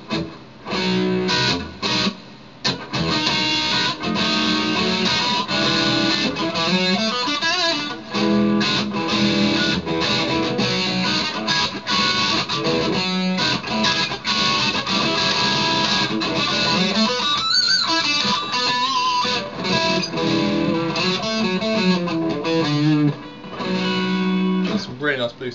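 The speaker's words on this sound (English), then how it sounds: "Really nice blues tones." Electric guitar playing blues licks and chords with the volume knob rolled down, a slightly distorted amplified tone ringing through a long continuous passage, up close and without voices.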